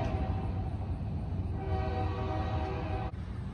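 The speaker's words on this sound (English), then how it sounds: "Here goes the train." A train rolls through a small Missouri town, a steady rumbling drone with faint tonal horn-like lines, heard from nearby at constant loudness for several seconds.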